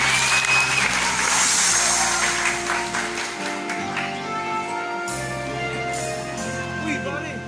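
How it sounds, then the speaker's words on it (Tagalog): An audience applauds at a Filipino language-month celebration at a university, clapping spread through a loud hall where a continuous hum of amplified sound runs beneath it. "Ayan, muli po palakpak."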